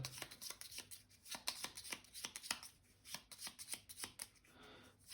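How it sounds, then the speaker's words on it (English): A deck of cards for the Bloodborne board game is shuffled by hand, giving a close, quiet run of rapid papery riffles and flicks that repeat in bursts for several seconds, with no speech. "I will be able to shuffle this deck since this is my discard"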